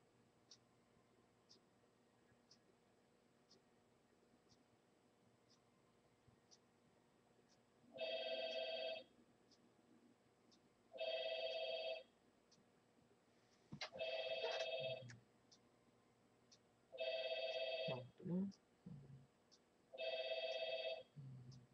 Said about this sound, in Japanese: 逆に私に電話がかかってきようけんさ、ちょっと待って